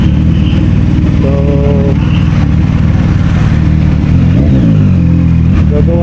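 A CF Moto 675NK motorcycle engine runs loud and close with a steady, throbbing drone, and its revs rise and fall briefly near the end.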